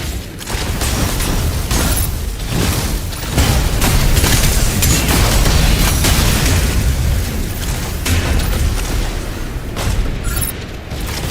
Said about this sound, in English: Explosion in the elevator's midsection.